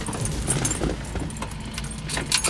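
Keys jangle and clink in a 1968 Ford Fairlane 500 as the ignition key is turned, a close metallic rattle in several quick bursts over a low engine rumble.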